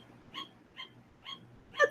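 Sugar gliders give four short, high barks at an even pace of roughly two per second, close and clear over a quiet background, the last one louder.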